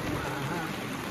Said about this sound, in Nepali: एकैछिनमा पानी पर्यो, वेदर एकैछिनमा यस्तो चेन्ज भयो है।